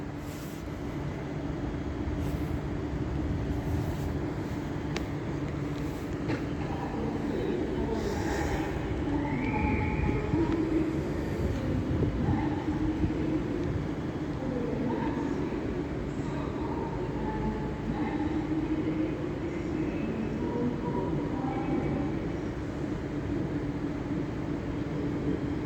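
Avanti West Coast train at Stoke-on-Trent station on the West Coast Main Line, a steady continuous rumble of idling or slowly moving rolling stock with faint squeal tones, loud and close throughout, no talking.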